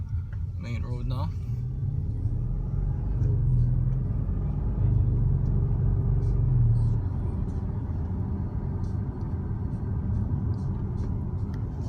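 An Audi RS7 cruising along a main road, its low engine and tyre rumble steady throughout, swelling slightly midway, with a voice briefly heard near the start.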